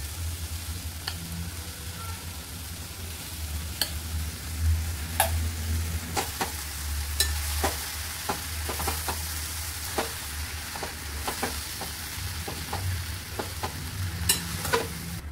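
Vermicelli sizzles steadily in a pan with Maggi masala, with sharp scraping clicks from stirring scattered throughout, close and moderately loud with no talking.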